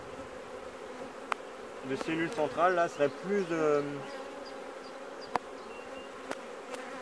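Honeybees hum steadily over a hive frame holding royal queen cells, a close continuous buzz with someone talking over it in French for a few seconds mid-way.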